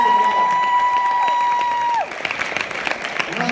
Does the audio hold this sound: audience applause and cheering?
yes